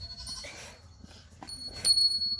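A lamb bleats in short, nasal calls, one near the middle and a louder, sharper one toward the end, over a low background rumble with no talk.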